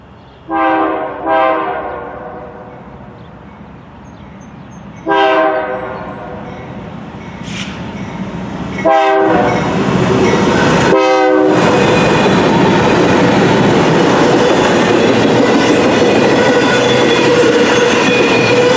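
A BNSF intermodal freight train on the former Santa Fe main line sounds several loud horn blasts, then rumbles past close by with a continuous roar and clattering wheels that fill the rest.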